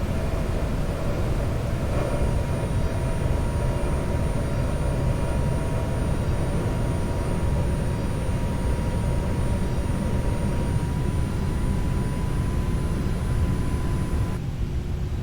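Steady, loud roar of CFM LEAP jet engines on a FlightFactor A320neo in the X-Plane 11 flight simulator, a continuous broadband rumble with faint high whine, holding constant throughout with no talking.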